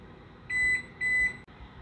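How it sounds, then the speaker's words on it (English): An oven timer beeps while baklava bakes, two clear steady electronic tones in quick succession, close and loud over a faint background hum. "Our timer just went out"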